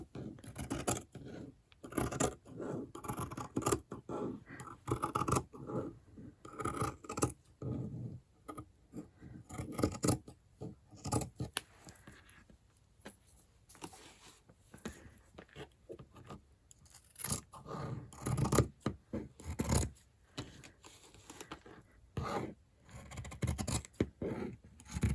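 Scissors snip through fabric for upcycled mittens, an inch or three-quarters of an inch outside the line, in irregular bursts of close crunchy cuts with short pauses over a long stretch, no talking.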